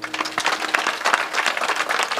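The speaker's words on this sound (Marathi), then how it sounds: "या पोरेसाठी टाळ्या वाजवा." An audience at a humorous kirtan gives a brief burst of dense applause for a boy, many hands clapping at once, fairly close and lively, with no talk over it.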